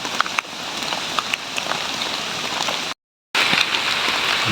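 Rain falls steadily on an outdoor mushroom-picking spot, a dense, close patter with scattered sharper drops that is cut by a brief silent gap before resuming.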